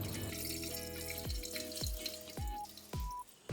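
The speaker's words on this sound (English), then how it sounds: "I discard the above water carefully" Water poured off soaked red beans into a sink, a steady splashing stream broken by a few distinct drips and trickling pours, close and fairly soft.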